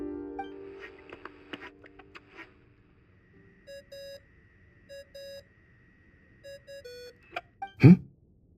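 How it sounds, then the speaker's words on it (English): A phone ringtone from the Genshin Impact video game repeats as short, bright electronic beeps in even pairs, fairly faint against a quiet background, followed near the end by a brief vocal sound. "I really hate that ringing tone."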